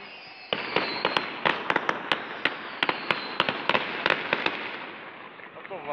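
Fireworks salute at the Poltava city day celebration in 2017, a rapid irregular string of sharp bangs and crackles over a steady hiss of crowd and distant noise, moderately far off.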